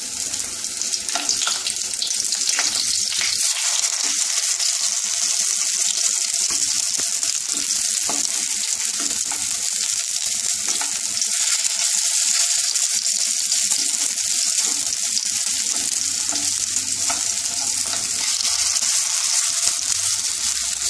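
Poppy seed balls, posto bora, shallow-frying in oil in a pan, a dense continuous sizzle and crackle held steady and close for the whole stretch, with a few faint clicks and no talking.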